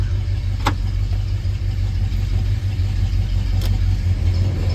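The blower motor of a 1973 Ford Mustang coupe runs with a steady, low interior hum. Two brief clicks break it, and no one speaks.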